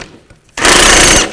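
A power tool with an 18mm socket spins a nut off a front strut on a 2005-2010 Chevy Cobalt: after a quiet start it gives a sudden loud, steady rattling whir for under a second, close up.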